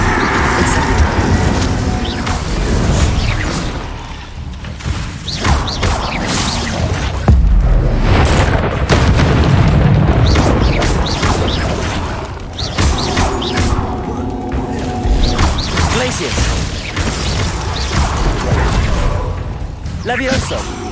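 Spell effects and explosions from the video game Hogwarts Legacy, with bursts of fire, ice and impact blasts crashing and whooshing continuously, loud and dense, with a voice calling out over the action.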